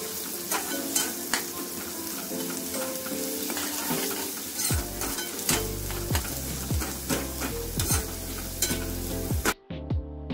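Crushed garlic and onion fry in a pan. A close, steady sizzle runs under repeated clinks and scrapes of stirring, then cuts off abruptly near the end, with no voices.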